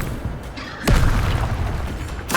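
A fiery Incendio spell cast in Hogwarts Legacy bursts out with a loud whooshing boom, then roars on as a dense, rumbling blaze. A second burst hits near the end.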